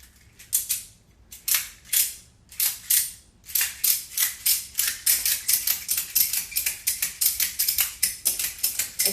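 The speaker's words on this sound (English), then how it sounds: "Okay, then we're gonna start ratcheting." A FITKIT door anchor ratchet strap is ratcheted tight in a long series of sharp, close clicking bursts, irregular at first and then in a quick steady rhythm with no talking.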